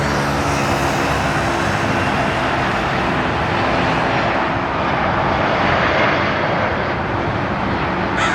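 A Boeing 737-800 jet arriving from Puerto Vallarta lands at LAX, a steady, loud, broadband engine roar holding for the full stretch without breaks, swelling slightly near the end.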